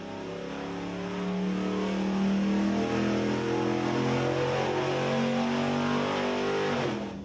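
A car engine on test during a motor oil comparison, held near peak RPM, makes a loud sustained revving roar with a steadily climbing pitch and no talk over it.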